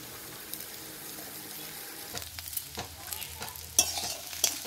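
Fried cauliflower and green peas are stirred into spiced potatoes in a pan: faint sizzling at first, then a run of close, scraping spatula strokes in an irregular rhythm. No voices are heard.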